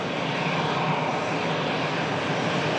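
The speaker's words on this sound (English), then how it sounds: "Aer Lingus 330 just beginning the spool up" An Aer Lingus A330 begins spooling up its jet engines for takeoff, producing a broad, steady, loud roar with no break.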